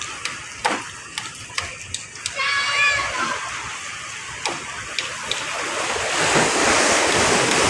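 Ocean waves washing ashore near a highway under construction by the Bulacan airport, a steady surf roar with gusty wind buffeting the microphone and a few short knocks.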